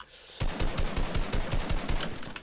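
Rapid automatic gunfire from a weapon in the Fortnite video game, a burst of about a dozen evenly spaced, punchy shots, close and loud with no talking.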